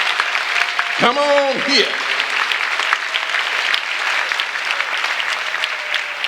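Audience applause at a rally against mass incarceration, a dense, sustained clapping throughout with a voice briefly calling out over it.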